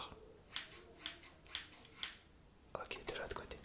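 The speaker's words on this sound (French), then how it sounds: "tu vas me dire combien de coups de ciseaux tu entends." Four gentle scissor snips sound right beside the ear at a steady pace. A soft whisper follows the last snip.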